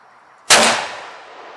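A single loud rifle shot from a Remington 700 CP sets off tannerite packed inside a pumpkin, a sharp explosive crack followed by a rumbling boom that trails away over about a second.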